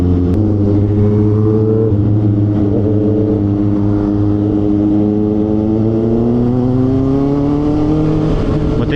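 A motorcycle rides along a road at a steady pace, its engine drone continuous and close, gradually rising in pitch as it gains speed, with no talking over it.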